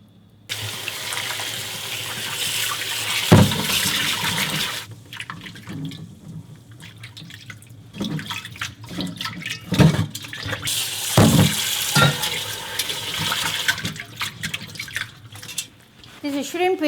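Tap water runs steadily into a sink while raw shrimp are rinsed, a continuous close splashing wash with brief pauses and bumps, a voice talking over it at times.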